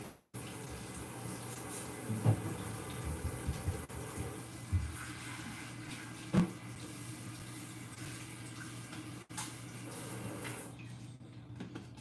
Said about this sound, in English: And wash your hands.